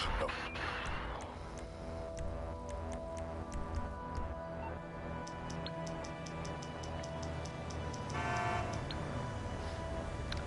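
A car horn sounds in GTA Online, held as a steady tone through a busy game soundscape, with regular ticking clicks running alongside and a faint voice underneath.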